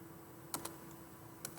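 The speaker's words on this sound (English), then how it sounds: "type in the name of your project" A few sparse computer keyboard keystrokes, clicking singly and in a small pair across a quiet room with steady background hum, no voice present.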